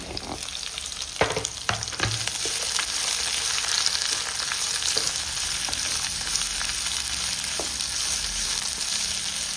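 Onions sizzle steadily in a hot pan with rock salt added, with a few clattering stirs early on, a constant close frying hiss and no talking.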